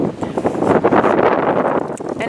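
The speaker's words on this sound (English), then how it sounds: "And it's super windy" Strong wind blowing outdoors on a sunny, snowy day, buffeting the microphone in loud, gusty rushes that surge and ebb throughout.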